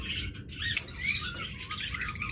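A pet bird pair, one red-eye and one black-eye, gives quick high chirps and squeaky calls close by, with a sharp brief squawk and a run of rapid twittering over light background noise.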